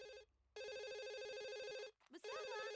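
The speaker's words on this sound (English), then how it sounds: "Answer the phone." A telephone rings in The Sims 1, a repeating electronic bell tone that sounds loud and close, breaking off briefly before ringing again, with game music and chatter around it.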